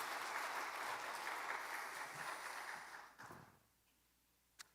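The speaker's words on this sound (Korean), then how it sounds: "우리 큰 박수로 격려의 박수 한번 보내줬으면 좋겠습니다" A Korean church congregation at a Sunday afternoon service gives sustained applause for two women's mission groups. The clapping is steady and dense, then fades out quickly toward the end, leaving near silence with a brief knock.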